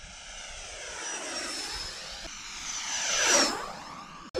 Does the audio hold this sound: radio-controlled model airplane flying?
yes